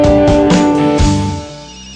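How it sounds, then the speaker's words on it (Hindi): A mobile phone rings with a steady, bright tonal ringtone that sounds loud and near, then fades away over about two seconds. "तभी मेरे फोन की घंटी बजी।"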